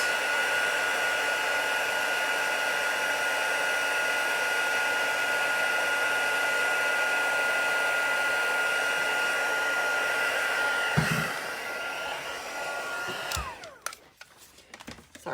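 Heat embossing tool blowing hot air while making a Christmas card, a steady loud whir like a hair dryer running for several seconds, then cutting off into a few soft handling knocks near the end.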